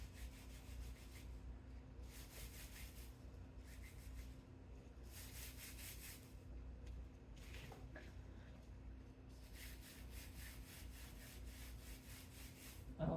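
Dried lavender stems stripped by hand, a steady dry rustling and rubbing in bursts of crumbly friction over a low constant hum, fairly close and continuous throughout.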